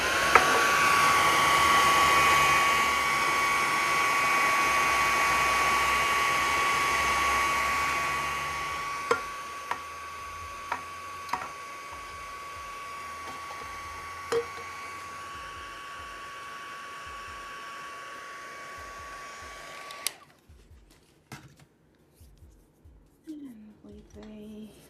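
A hair dryer blows steadily, loud and close, over galvanized tin coated with a cinnamon rust effect, a continuous roar with a whine, with a few small knocks near the end before it cuts off abruptly and faint clatter follows.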